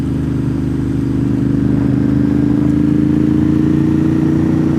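A motorcycle hums steadily beneath the rider on a winding mountain road, its engine droning at an even pace with wind rush, close and loud, no talking.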